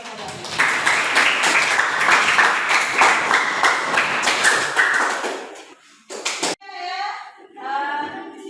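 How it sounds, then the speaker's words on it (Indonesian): Students in a classroom applaud their classmates' answers with loud, close, brisk clapping for about five seconds; it fades out, and children's voices follow near the end. "tepuk tangan dulu untuk menjawab jawabannya"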